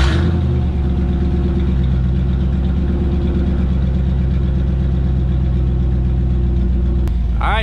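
A 5.7 V8 truck engine with a true dual muffler delete runs loud and close, a deep rumbling idle with a choppy uneven pulse, holding steady throughout with a brief blip near the end.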